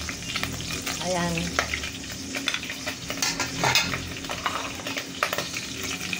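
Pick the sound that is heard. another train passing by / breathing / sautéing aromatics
sautéing aromatics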